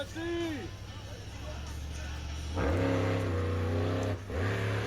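A monster truck engine revs and roars in bursts, rising sharply in pitch, with a crowd murmuring in the background at a monster truck event in Ransomville, NY.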